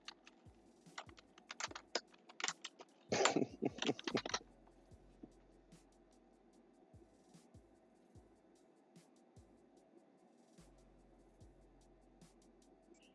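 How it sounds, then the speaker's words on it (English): Close typing on a loud computer keyboard, rapid clattering keystrokes in bursts that peak in a dense flurry and then thin out to sparse, faint taps. "my typing is loud"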